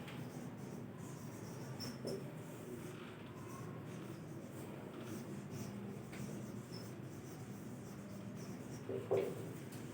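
A teacher writes notes during a physics lecture on vector types, giving a soft, steady scratching that runs throughout under faint room noise.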